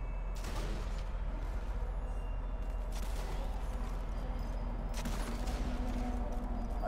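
Sniper rifle shots ring out in the Sniper Elite 4 video game: about three loud, separate blasts, each with a long echoing tail, over a constant low background rumble.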